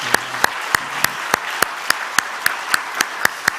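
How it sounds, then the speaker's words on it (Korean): A church congregation applauds the news production staff during a Sunday service: crisp, evenly spaced claps land in a steady rhythm of about three per second over a softer wash of scattered clapping. "이 제작진 PD들 위해서 우리 박수 한번 할까요?"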